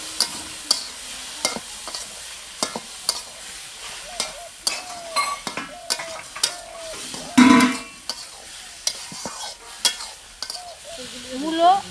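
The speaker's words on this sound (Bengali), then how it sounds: "মূলো আলু মশলার সাথে আমি ভালোভাবে কষিয়ে নিয়েছি" Radish and potato stir-fried with chili and turmeric spice masala in a pan, giving repeated close scraping stirs over a steady sizzle, with no talk.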